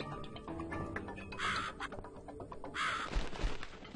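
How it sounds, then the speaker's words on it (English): A crow in the video game The Cat Lady caws in two loud, harsh bursts amid clicking and shuffling game sounds. "Where are you going, Crow? Come here"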